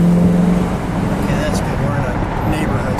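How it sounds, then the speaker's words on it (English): A 1969 Pontiac Grand Prix Model J's engine roars as the carburetor secondaries open up, a loud sustained drone recorded from inside the car in a neighborhood, with a low tone at first. "That's the secondaries on a carburetor opening up"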